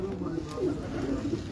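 Low, rolling coos from pigeons on a Karachi rooftop continue steadily over a short stretch, with a murmur of voices in the background.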